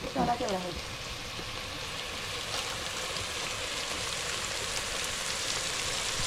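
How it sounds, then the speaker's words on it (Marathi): Chopped tomato dropped into a hot pan over an outdoor cooking fire, giving a steady close hiss and sizzle after a brief clatter at the start. "टोमॅटो घेतला कापून आणि टोमॅटो आता ऍड करणार आपण"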